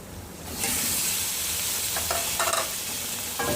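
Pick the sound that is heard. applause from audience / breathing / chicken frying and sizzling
chicken frying and sizzling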